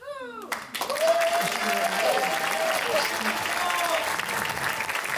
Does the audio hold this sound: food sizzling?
no